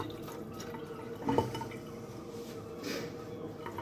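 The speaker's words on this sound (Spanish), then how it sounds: "un segundo que me voy a lavar las manos" Hands are washed under running water from a kitchen tap during a traditional cooking session, a soft steady trickle and splash close by, with a brief louder splash and no talk.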